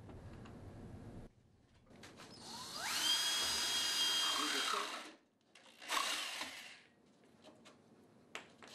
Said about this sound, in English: I'm going to drill four holes here